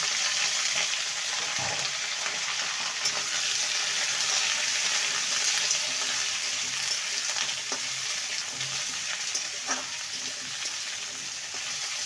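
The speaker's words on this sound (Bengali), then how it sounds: "ভালো করে ভেজে নেব" Ridge gourd, drumstick pods and potato frying in a pan for a drumstick curry, a continuous bright sizzle with occasional stirring clinks and scrapes, steady and fairly loud throughout.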